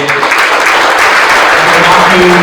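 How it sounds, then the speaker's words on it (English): Loud, steady applause from a large crowd at the Native Hawaiian Organizations Association conference fills the space, a dense wash of clapping with no pauses. "I want to just ask for a round of applause for the NHOA"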